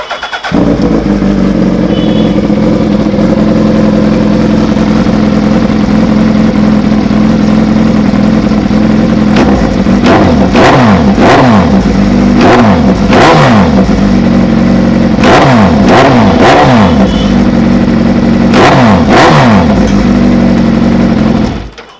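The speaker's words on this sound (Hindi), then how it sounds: "चलिए इसको फायर अप करते हैं, आपको सिंगल साइड की आवाज़ सुनाते हैं कि सिंगल साइड की आवाज़ कैसी आती है।" A superbike fitted with an M4 single-side exhaust starts on a steady loud idle, then is revved repeatedly in sharp bursts from about ten seconds on, each blip rising and falling quickly. No one speaks.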